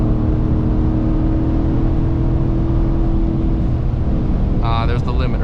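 Ford F-150 with a 5.0 V8 engine revving hard to its rev limiter during a night drive, a loud steady engine drone and whir heard from inside the cab, with a brief higher stutter near the end.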